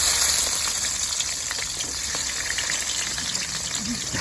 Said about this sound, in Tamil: என்ன போடுறீங்க வெங்காயம் போடுறோம் வெங்காயம்